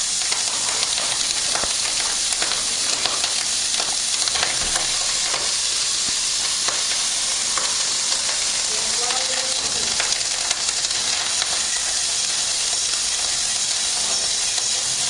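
Three beaten eggs with pepper fry in a pan on very high heat, giving a loud, steady sizzle and hiss with constant popping and spitting throughout, and faint talk at times in the background.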